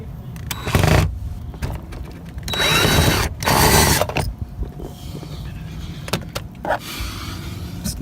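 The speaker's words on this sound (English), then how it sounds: "There are screws that you can release" Power tool loosening screws on the bottom of a Toyota Camry door during a handle replacement, two loud whirring bursts with quieter clicks and handling noise around them, close by.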